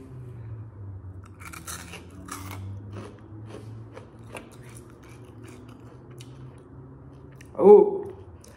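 Crunchy shrimp cheek snack bitten and chewed near the microphone, a few soft crackling crunches followed by one louder bite near the end, with faint talking in the background.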